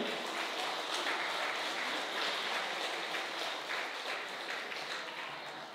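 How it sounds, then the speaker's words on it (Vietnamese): Applause rings out at a 60th diamond wedding anniversary celebration, a broad, even crowd clapping heard at a distance and fading slightly toward the end. "Chúng con xin quý cha và toàn thể quý vị chúc mừng cho anh chị một tràng pháo tay thật lớn."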